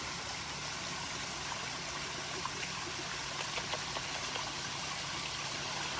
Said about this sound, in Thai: มีน้ำตกเล็กๆ มีสะพานข้ามเล็ก ๆ นี่ นี่ น้ำตกจำลองครับ